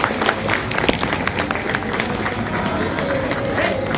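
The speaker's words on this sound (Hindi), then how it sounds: "तालियों से स्वागत करें" A crowd claps continuously at a statue unveiling, a dense patter of applause with people talking underneath.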